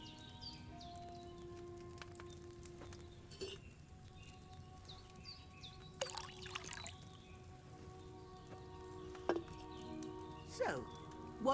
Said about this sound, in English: So, what did you pour in there? Wine, of course.